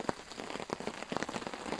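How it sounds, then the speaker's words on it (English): Rain pattering and drumming on a tarp at a wet, windy forest camp, with irregular heavier drops landing close by, steady and fairly soft with no talk. "it's not just the rain, it's windy as well, so the wind is whipping right through the camp here, blowing the rain in sideways"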